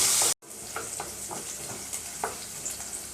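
Sliced onion and curry leaves sauté in hot oil in a pan, a steady close sizzle with soft scraping stirs every half second or so after a brief dropout at the start.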